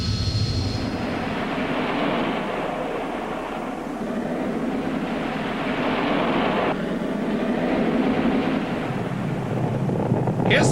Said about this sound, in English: Here's the most basic kind of jet in action, a rocket, producing an enormous lifting force.